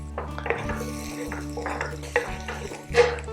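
Ginger and garlic frying in a little oil in a pan before egg fried rice, a soft sizzle under clinking and scraping of a utensil against the pan, with a low steady hum beneath.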